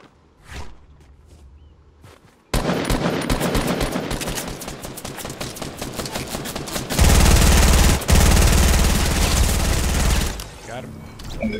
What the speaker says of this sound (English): Gun and dynamite.